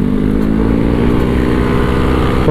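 A Yamaha Aerox turbo scooter at full throttle in second gear in sport mode, its loud, close engine drone climbing steadily in pitch, with a sharper rise right at the end.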